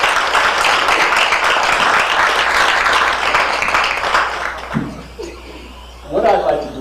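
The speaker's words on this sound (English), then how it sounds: "I think we should give him a round of applause." A crowd at a memorial tribute event claps loudly for several seconds, then the applause fades into scattered laughter and a speaking voice.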